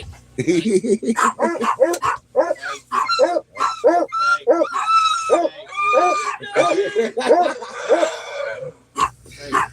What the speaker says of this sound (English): combined, they bark a lot